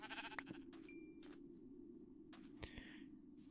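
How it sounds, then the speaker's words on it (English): Sheep in Minecraft give a few short bleats, with faint clicks and game effects between them and no speech. "We have one more sheep."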